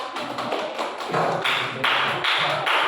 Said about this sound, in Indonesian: Tepuk tangan buat Mbak Nita